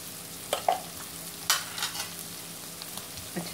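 Spices are stirred into egg chilli frying in a pan, giving a close, steady sizzle broken by a few sharp scrapes and clinks of the spoon, with no talking.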